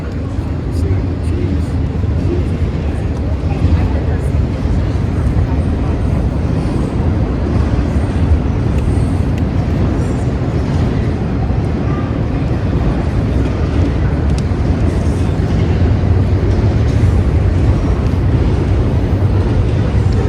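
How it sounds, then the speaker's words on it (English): A train passes near an outdoor dedication ceremony, a loud continuous rumble that stays steady from start to finish. "All right, we have some train noise."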